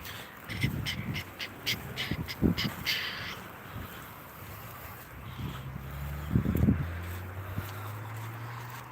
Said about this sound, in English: Big old blackbird, mate.